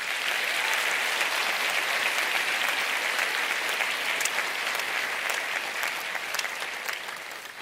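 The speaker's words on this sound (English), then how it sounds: "let's give our graduates and diplomats a warm round of applause." Sustained applause from a large audience at a university spring graduation ceremony, steady and dense clapping held at an even level for the whole stretch, easing slightly toward the end.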